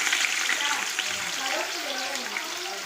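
Onion, ginger and green chilli frying in hot oil with mustard seeds and dried red chillies for wheat rava upma, a dense continuous sizzle and hiss throughout with faint crackles.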